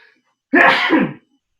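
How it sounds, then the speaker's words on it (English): A single sharp sneeze from someone cooking in a kitchen, loud and close, a quick inhale-burst lasting about half a second and surrounded by near silence. "Of course I sneeze."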